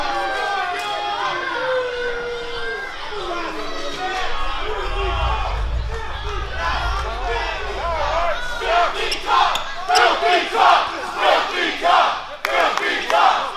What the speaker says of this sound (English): This crowd come alive for MV Young